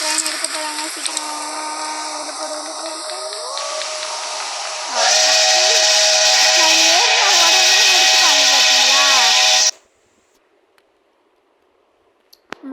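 A steam train's whistle in a video game, with a long, warbling whistle over a rushing hiss that swells louder midway and cuts off abruptly, leaving near silence with a few faint clicks.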